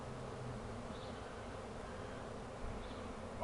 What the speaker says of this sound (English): I got one bee over here.